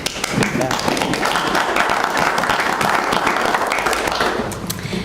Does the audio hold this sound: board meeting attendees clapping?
yes